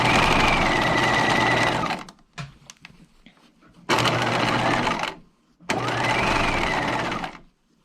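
A sewing machine understitching a removable collar runs in three loud, steady bursts of stitching with short pauses between, the motor whirring close up and alone.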